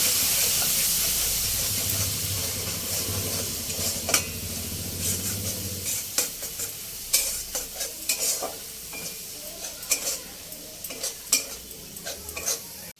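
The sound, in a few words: spice paste sautéing with a little water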